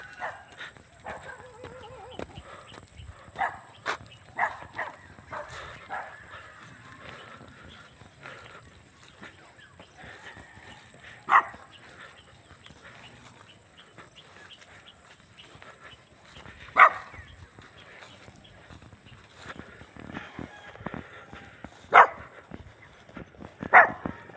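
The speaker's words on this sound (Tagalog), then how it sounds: "may galit na aso" An angry dog barks sharply a few times in the distance over steady outdoor background noise by rice fields, the barks spaced irregularly.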